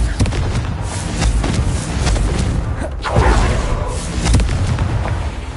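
A Confringo fire spell bursting in Hogwarts Legacy, a dense rumbling boom with a whooshing blast that swells and rolls across several seconds, loud and close, with layered impacts and no voice over it.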